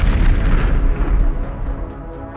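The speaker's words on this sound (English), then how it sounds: "it rolled over a hidden mine, triggering a violent explosion that sent debris, fire, and thick black smoke into the air" A heavy, booming explosion as a tank rolls over a mine in the War Thunder video game, a loud low blast that rumbles and decays over a couple of seconds, with a few faint crackling pops at the tail.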